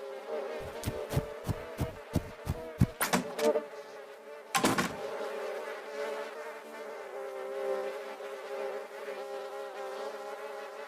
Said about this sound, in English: The bees are coming to eat the honey right now.